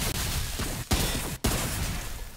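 Rapid video-game gunfire rattles in a dense, loud burst, broken by two brief gaps before the shooting resumes; no voices are heard.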